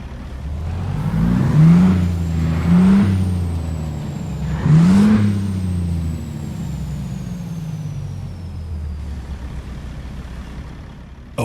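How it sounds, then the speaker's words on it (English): Simulated Caterpillar 3406 truck engine in American Truck Simulator starts and revs up in a few swelling pulses with a whine, then settles into a steady low idle, loud and close with no talk. "let's fire this thing up and have a listen."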